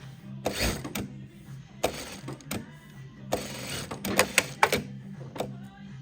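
A Durkopp Adler industrial sewing machine with automatic foot lift runs in short stop-start bursts, its mechanical whirring and clicking close by, with quick clacks as the presser foot lifts during the pauses.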